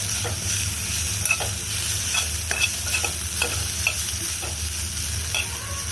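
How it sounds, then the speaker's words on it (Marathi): Fried onion with turmeric and masala stirred in a pan, a continuous sizzle broken by repeated scraping strokes of the spoon at an even rhythm, close and clear with no talking. "यात आपण आता हळद आणि मसाला टाकलेला आहे आता हे आपण मिक्स करून घेऊ"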